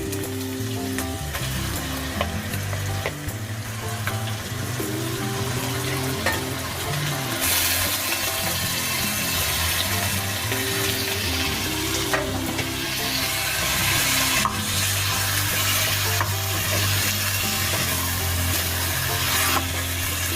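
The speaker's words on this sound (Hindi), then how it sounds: "मटन के लहसुन के साथ फ्राई करूँगी 2 से 3 मिनट तक" Mutton fries with garlic and ginger in oil in a pan, giving a loud, steady sizzle with stirring scrapes throughout and no talking.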